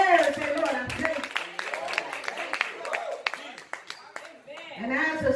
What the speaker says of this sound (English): Just clap in the air